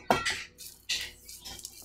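Full metal tea tins are shaken, giving three separate bursts of rattling and clinking contents, close and fairly loud, with quiet gaps between them.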